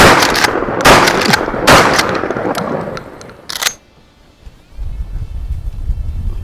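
Several loud, close gunshots from a Landor Arms Bullpup 12 gauge semi-auto shotgun fire in quick succession outdoors, followed by a brief quiet gap and wind noise.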